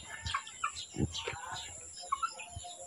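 Hens cluck softly in short, scattered bursts while feeding, close by, with faint background noise and a few higher chirps.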